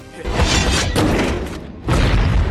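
An explosive arrow detonates in a battle scene from the film The Great Wall, producing loud, shattering booms in bursts with a brief drop between them.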